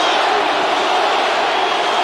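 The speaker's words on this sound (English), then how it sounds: "And now the crowd starting to chant Forrest." An arena crowd at the Arrowhead Pond of Anaheim chants for fighter Forrest Griffin during his bout with Tito Ortiz, a loud, steady, dense roar filling the whole space without pause.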